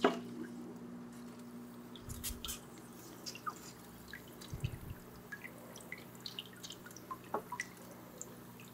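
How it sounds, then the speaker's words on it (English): Water sprinkling and dripping inside a DIY hydroponic tower, quiet scattered drips and splashes with a low pump hum beneath, no talking. "You can see these things sprinkling water."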